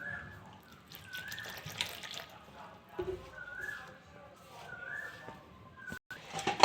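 Water is poured into flour for luchi dough in a home kitchen, a soft trickling splash that comes and goes at low volume, with faint voices and small handling noises in the background.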